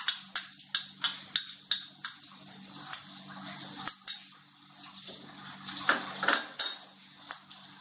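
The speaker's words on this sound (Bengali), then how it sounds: "এবার পেঁয়াজ দিতে হবে।" Chopped onion goes into a pan for frying while chicken momo soup is cooked, with a steady run of light metallic taps and clinks from utensils against the pan, fairly close and alone.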